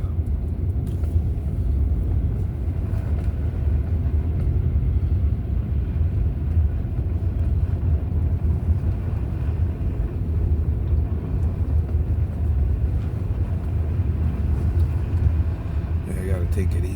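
A truck drives slowly along a snowy road in a blizzard in southern Oklahoma, its engine and tires giving a steady heavy low rumble heard from inside the cab.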